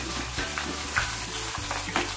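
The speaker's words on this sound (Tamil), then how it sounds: "அதே மாதிரி நம்ம மீதி இருக்க சிப்ஸ்லாம் வறுத்துக்கலாங்க." Potato chip slices bubbling in hot oil, a dense continuous sizzle up close with a few soft stirring knocks, and no voices.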